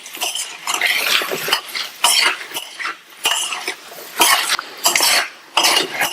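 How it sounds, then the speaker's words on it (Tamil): Chili powder, asafoetida and salt stirred into a vegetable fry in a pan for a lunch box dish, heard as repeated scraping and clattering strokes of a spoon against the pan, fairly loud and close, with no talking. "இந்த ஃப்ரைக்கு தேவையான அளவு உப்பு சேர்த்துட்டு நல்லா கலந்து விட்டுருங்க"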